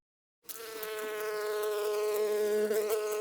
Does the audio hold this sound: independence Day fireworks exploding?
no